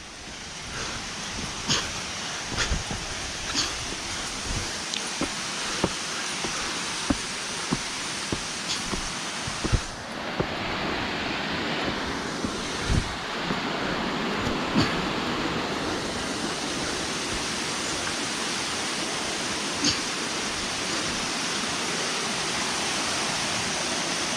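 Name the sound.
waterfall on the Triund trek near Dharamshala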